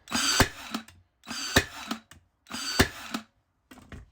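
Ryobi One+ R18N16G cordless brad nailer driving nails: three loud, close bursts about a second apart, each a whirring wind-up ending in a sharp snap, with a softer fourth whir starting at the end.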